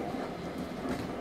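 A passenger train running through the Bengal countryside at dusk, a steady close rumble with faint rhythmic rattling of the carriages, continuous and even throughout.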